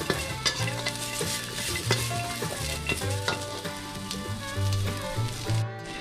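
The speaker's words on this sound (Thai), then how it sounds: "นำเครื่องเทศนะครับลงไปคั่วก็มีกระเทียมหอมตะไคร้ข่านะครับ" Garlic, lemongrass and galangal dry-roasting in a pan, close and steady, with continuous crackling sizzle and repeated scraping stirs of a utensil against the metal.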